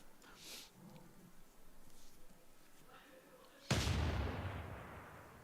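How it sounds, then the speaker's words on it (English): Cannon fire during a city siege in Civilization: after a stretch of quiet murmuring, a single sudden heavy boom hits and rolls away in a long, rumbling decay. "And hearing that cannon fire,"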